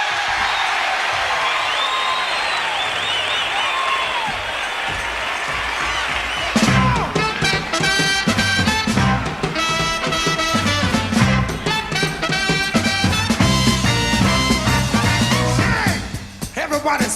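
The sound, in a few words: festival crowd cheering and applauding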